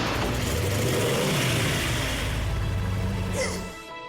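A racing car engine revs hard in a sustained, loud roar that holds steady before easing off and fading near the end.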